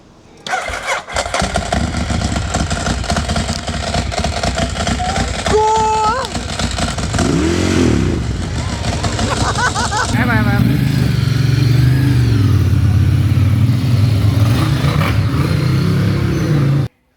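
Friends' motorcycles start and rev loudly and close by, one engine roaring continuously with rising and falling pitch before a heavier, deeper engine takes over near the end, with people talking in between.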